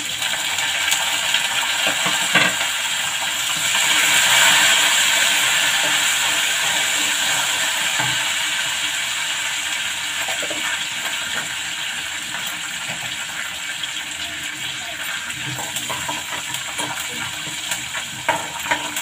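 Green chillies and curry leaves sizzle in hot oil while lemon rice is being made, a continuous bright hiss and crackle that swells early and then settles into a steady frying sputter, with no talk.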